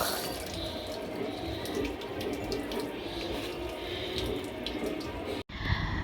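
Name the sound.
tap water washing banana leaves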